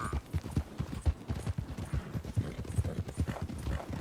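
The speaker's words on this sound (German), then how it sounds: "Tippe im Rhythmus des Galopps deines Pferdes, um den Auslauf zu verhindern." A horse gallops in the video game Red Dead Redemption 2, its hooves pounding in a fast, steady rhythm of close, thudding beats that run continuously from start to end.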